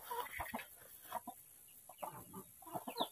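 A mother hen clucks in short, irregular bursts while her chicks stay close by, the calls near and moderately loud against a quiet farmyard background.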